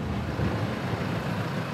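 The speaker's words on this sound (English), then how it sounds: "A blue tractor pushes out the bedding." A blue tractor with a front scoop and rear scraper pushes out old bedding in a farm shed, giving a steady low engine rumble with a rough scraping texture, close and continuous.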